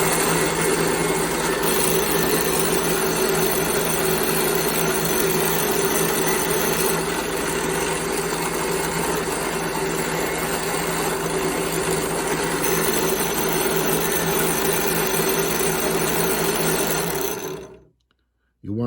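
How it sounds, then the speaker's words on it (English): A noisy drill press boring bearing holes in an O scale model truck frame, a loud, steady whining drone with a constant hum that runs unbroken and then cuts off abruptly near the end. "Now this drill press is noisy as heck, and so we'll just do 2 of them here real quick."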